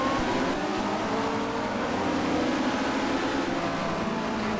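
Touring race cars in a 1990 WTCC race at Barcelona pulling away from the start, a blended steady roar of several engines heard from a distance with no clear single pass-by.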